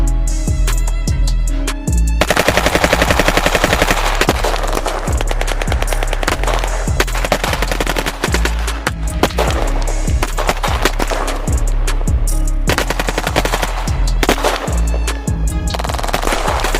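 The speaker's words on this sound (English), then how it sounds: "Now let's test out the gun and see how powerful it is." A homemade cardboard M4 carbine is fired repeatedly, giving loud, sharp clacking shots in quick rhythmic bursts with brief pauses, close and alone.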